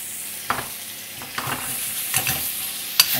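Lean venison frying in butter in a pan, a close hissing sizzle broken by four sharp stirring or basting scrapes at roughly even intervals, with no voices.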